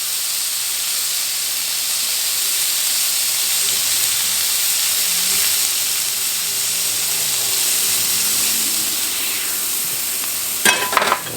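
Hamburger patty smashed onto a hot griddle, seasoned side down, giving a steady loud sizzling hiss that runs unbroken throughout, with a few scraping clatters of a spatula near the end.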